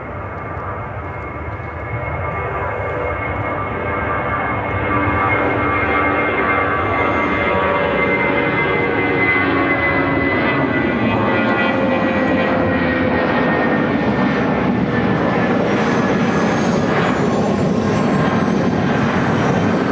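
An Airbus A319 airliner takes off from Chicago O'Hare toward Pittsburgh, its jet roar swelling loud after a quieter start with a whining tone sliding across the sound as it climbs away.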